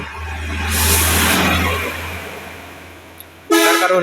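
Traffic jam on a Dhaka street, a car engine rumbling up close and then fading, with a sudden loud car horn honk near the end.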